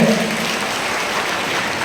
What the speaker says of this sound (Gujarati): આપણે તાળીઓ પાડવાની જરૂરિયાત છે